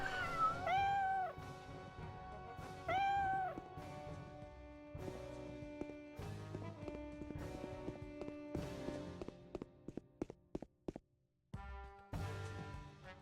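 Cats in the video game Arc the Lad give two short meows near the start, followed by game music and clicking menu sounds, with no talking.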